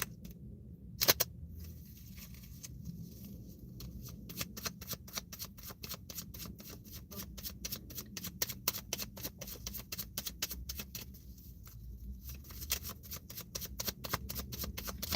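Tarot cards being shuffled give a long run of dense, rapid riffling clicks and soft slaps, close and continuous, with a brief pause partway through and no talking.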